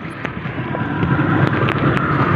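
Strong wind at sea buffeting a rubber boat, a steady rushing roar against the microphone with faint knocks and splashes, and no one speaking.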